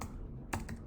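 Keys on a computer keyboard are tapped during a command entry in an Ubuntu Linux terminal. A few quick, soft clicks come close together at low volume, with no talking.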